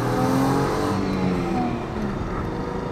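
A worn car engine drones loudly and steadily while driving, with a dense, continuous roar that holds near throughout, the car being pushed hard.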